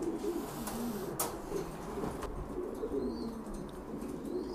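Caged pigeons coo in low repeated murmurs close by, with a few brief rustles and flutters of wings in the enclosure.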